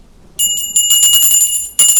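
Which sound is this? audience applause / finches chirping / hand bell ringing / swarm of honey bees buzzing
hand bell ringing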